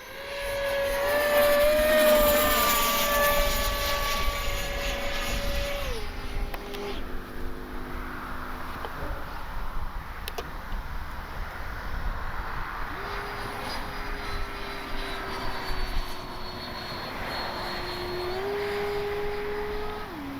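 A Kavan Skyfox L-39 electric ducted-fan RC jet flying on a maiden flight under a gray sky, a steady whining turbine-like tone that rises and falls as it passes, loud at first, then more distant.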